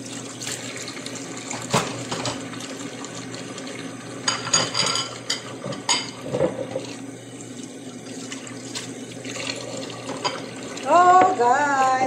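Water running from a tap as someone washes at a sink, a steady splashing flow with intermittent louder splashes, partly under nearby talking.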